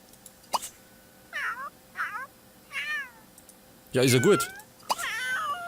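A cat in The Sims 3 meows several times, short wavering cries one after another. Someone speaks briefly over the last meows.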